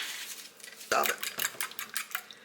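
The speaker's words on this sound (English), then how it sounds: "Now I'm just going to get these seasonings mixed up in with the rest of the egg mixture" Seasonings of pepper and onion powder are whisked into an egg mixture in a bowl, giving a quiet start and then a burst of quick utensil clinks and scrapes against the bowl.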